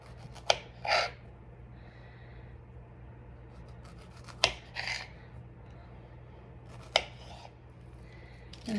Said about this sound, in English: I'm gonna go ahead and get those cut into slices.